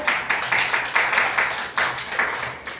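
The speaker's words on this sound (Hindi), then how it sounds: "ताली बजाओ दीदी के साथ" A group of children clap together in a steady rhythm, about four claps a second, close and fairly loud, with no talking over them.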